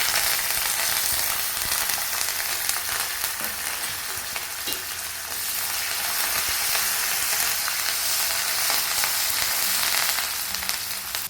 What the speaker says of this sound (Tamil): வெங்காயம் பூண்டு போட்டுக்கிறேன்